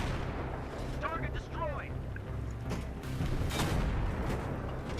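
Booming gunfire and explosions rumble through a Battlefield 3 campaign battle, dense and continuous, with someone talking over the din.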